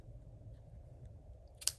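A single crisp snip of scissors trimming ribbon ends near the end, a short sharp cut after quiet low rumbling background noise.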